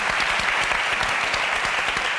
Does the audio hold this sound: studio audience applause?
yes